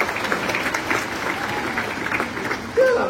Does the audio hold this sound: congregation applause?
yes